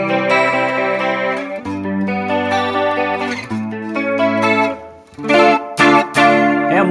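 An electric guitar played through the clean normal channel amp model of a Sonicake Matribox 2 Pro, sounding as a steady run of sustained chords and melodic notes with a slight chorus shimmer, loud and alone with no talking.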